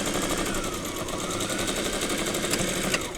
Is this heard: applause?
no